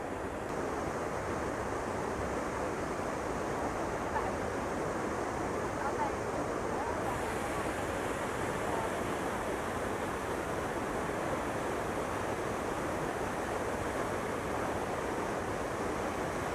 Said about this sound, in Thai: ฟังเสียงบรรยากาศธรรมชาติครับผม